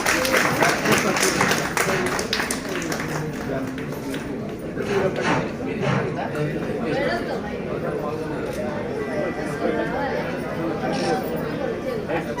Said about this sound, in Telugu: అందరూ ఒకసారి గట్టిగా క్లాప్స్ కొట్టండి.